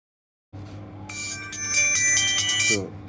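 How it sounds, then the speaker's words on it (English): A Tecno LB7 phone, just repaired with a reballed sound IC, rings its ringtone after a moment of silence: a bright, layered electronic melody that plays loud and close for a few seconds. "Now you can see it's ringing."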